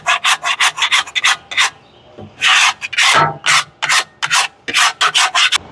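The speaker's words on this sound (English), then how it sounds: "I just come through with the bench scraper and I scrape all this stuff out" A bench scraper rasps residue from the inside of a smoker, loud close strokes in quick rhythmic bursts with a short pause and then longer, heavier scrapes.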